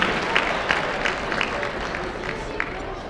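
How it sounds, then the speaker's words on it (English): An audience at the Jewels for Giving benefit gala for the NWA Food Bank applauds with steady clapping from a crowd, while a voice talks over it. "Give her another big round of applause."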